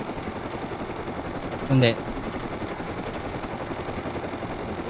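A helicopter in a video game, heard as a steady, dense rotor drone at moderate level that persists the whole time, with one brief spoken word over it.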